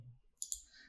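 Two sharp, close mouse clicks in quick succession on a logout button during a PHP login page tutorial, crisp and isolated against near silence.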